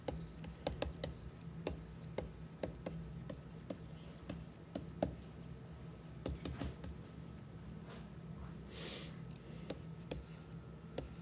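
Pen scratching across paper while a chemical equation is written out, a quiet run of short irregular strokes and taps close up, with a soft voice speaking now and then.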